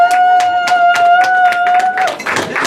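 An audience at a House of Lords conference dinner clapping in a steady rhythm, with regular crisp claps under a sustained tone that cuts off near the end, where the clapping turns looser.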